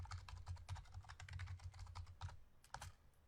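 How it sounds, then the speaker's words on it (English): Typing on a computer keyboard while entering SQL, with a brisk, uneven patter of close key clicks and a few heavier keystrokes near the end, no voices. "Let's type it."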